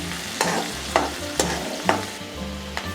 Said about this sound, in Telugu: ఆనియన్స్ కూడా వేసుకోవాలి. ఇవి కూడా బ్రౌన్ కలర్ వచ్చేంత వరకు వేయించుకోవాలి.